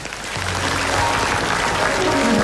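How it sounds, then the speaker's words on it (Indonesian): Audience at an Indonesian comedy talk show breaks into loud, sustained applause, a dense wash of clapping that swells and holds steady throughout. "Tepuk tangan dulu dong"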